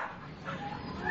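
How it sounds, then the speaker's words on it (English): A dog at a council pound gives faint, short whimpering yips in a reverberant room, quiet and brief. "rangers including Sarah Wilkins bring in hundreds of dogs each year"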